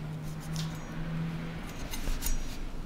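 Raw pork belly being cut on a board for Taiwanese braised pork, giving soft, scissor-like snips and faint scrapes over a low steady hum, close and quiet, with a brief sharper knock near the end.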